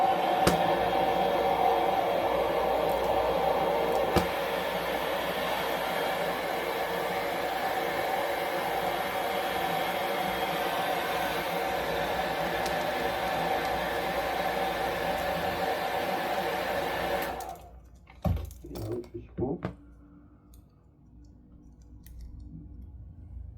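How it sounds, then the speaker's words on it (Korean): A hair dryer blows heat onto a Galaxy S20+ phone during a screen repair, a loud, steady whoosh running for about seventeen seconds before cutting off, followed by a few sharp handling clicks. "그 드라이기로 열을 가해준 다음에 이제 셀프 카메라를 분리해야지"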